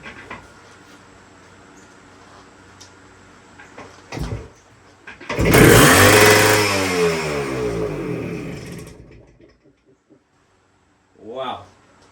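A crusty 1973 Kawasaki 175 motorcycle, sitting since the mid-1980s, idles roughly with faint ticking, then its two-stroke engine is blipped loud to full throttle, a rising rev that falls away to silence, followed by a short voice.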